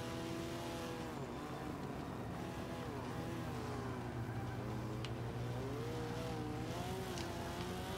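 Mitsubishi EVO VI engine revving hard through gear shifts while racing in Forza 5, with a loud, continuous whine that climbs and drops at each change.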